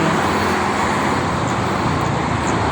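Buses and cars stream along the Jakarta–Cikampek toll road in the early morning, a steady wash of roadway rumble and tyre noise with no break.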